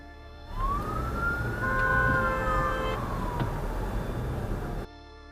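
Fire engine siren sounding near a busy road intersection, a rising and falling wail running several seconds over steady traffic rumble, fairly close and loud.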